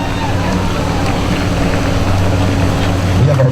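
Motorboat engines roar loudly and continuously at close range, props lifted out of the water while revving on a boat stand at a water-ski show, a dense churning rumble that swells slightly toward the end.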